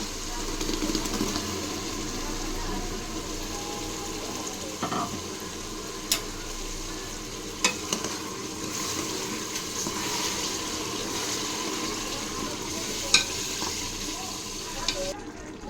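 Onion masala sizzling and frying in a pan, a steady hiss throughout with occasional light clinks and scrapes of a spoon stirring against the pan.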